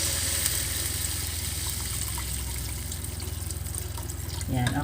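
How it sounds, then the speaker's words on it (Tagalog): Water poured into a cooking pot for shrimp sinigang makes a continuous steady splashing rush under a hum, with a voice briefly near the end. "maglagay na tayo ng tubig"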